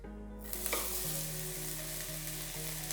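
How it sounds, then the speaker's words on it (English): Finely diced onion sizzles steadily in two tablespoons of heated extra virgin olive oil in a pan, a dense continuous fry with a few soft stirring knocks and no talking. "in my pan here I have heated up 2 tablespoons of extra virgin olive oil. Into here I've got 1 onion and I finely diced it."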